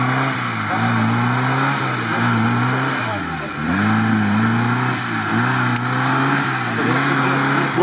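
An off-road UAZ engine revs repeatedly while driving over rough terrain, loud and close, with rising and falling engine pitch in several surges and a brief dip in the middle.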